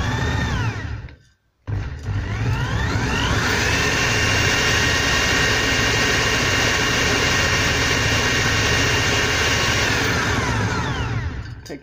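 Honda HR194 mower gearbox drive running on a bench, a loud steady mechanical whine and hum with rising and falling tones, after a brief pause near the start, then continuous to the end.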